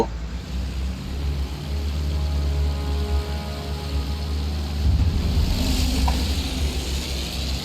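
A propeller airplane's engine drones in the World War I video game Battlefield 1, a steady low hum with a swelling roar partway through, continuous and close.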